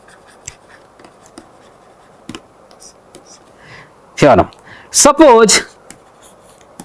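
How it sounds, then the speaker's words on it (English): A pen or marker scratches out a math theorem on a writing surface in scattered short strokes and taps, with a lecturer speaking briefly over it. "me first write down the theorem"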